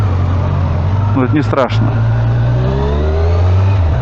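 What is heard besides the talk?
Kawasaki motorcycle engine revving as riders set off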